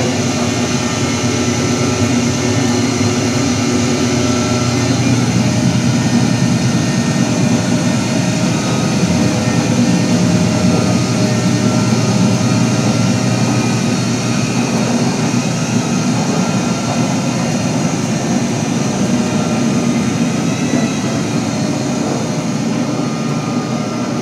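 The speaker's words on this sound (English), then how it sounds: "Wow, the wheelchair lift was pretty loud" A 2014 Bella ELP-72 screw-driven wheelchair lift in Building B at Kishwaukee College runs with a loud, steady mechanical drone that holds unbroken for the whole ride, with no talk over it.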